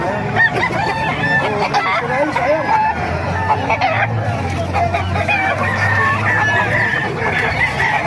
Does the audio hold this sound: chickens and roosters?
yes